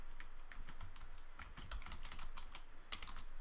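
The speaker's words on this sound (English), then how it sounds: "I'm just using the hardware keyboard here just for speed" Quick typing on a hardware computer keyboard, a dense run of crisp, close key clicks in an uneven rhythm, heard alone with no voices.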